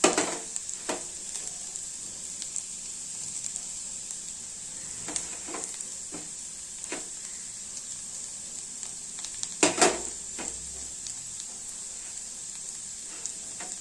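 Okra sabzi (bhendi bhaji) sizzles steadily in a pan, with a bright continuous hiss and scattered scraping stirs, one louder clatter near the end; no voices.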